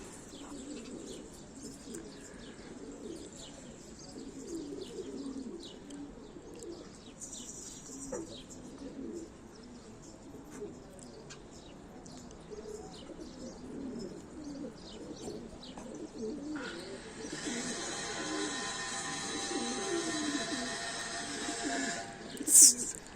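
Pigeons coo and chirp through a noisy outdoor loft setting with rustling and background hum, with a sharper burst of activity and a brief loud flutter near the end.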